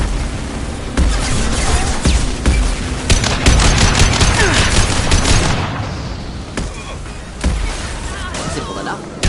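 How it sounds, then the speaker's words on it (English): Heavy weapons fire in the video game Mass Effect 2: sustained loud automatic bursts and booming impacts, densest in the middle, easing briefly before further sharp shots near the end. "Heavy weapons."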